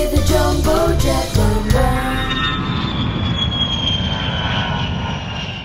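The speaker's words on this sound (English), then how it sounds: "Chloe the Jumbo Jet" A large jumbo jet airliner's engines roar loud and steady, a broad continuous rush that starts under a brief musical jingle and then carries on alone with a rising whine.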